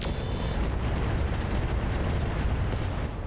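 Mech weapons in the RogueTech battle game fire and strike a target, giving a dense, continuous roar of explosive bursts and booms that stays loud and unbroken throughout, with no talking.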